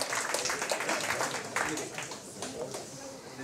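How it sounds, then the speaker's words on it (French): Audience applause at a French dictation contest ceremony, a steady wash of clapping that slowly thins out, heard at moderate distance. "Qu'ils se reconnaissent, on peut les applaudir."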